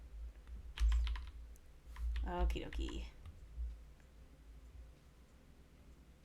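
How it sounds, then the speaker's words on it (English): A new computer keyboard clacks with quick bursts of key clicks during typing, close and fairly soft, while a voice speaks briefly over it and the clicking then thins out. "I'm also very sorry if you can hear the little clicky clacks of my keys in the background."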